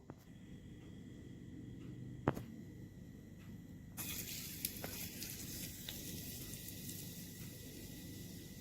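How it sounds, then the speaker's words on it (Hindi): Potatoes hit hot oil in a cartoon kitchen, producing a faint, steady sizzle that swells into a brighter, louder frying hiss halfway through, with a sharp click early on. "तेल गरम हो गया है, पहले आलू छौंक देती हूँ।"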